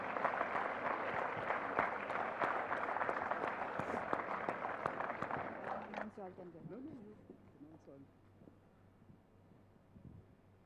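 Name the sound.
audience applause for award presenters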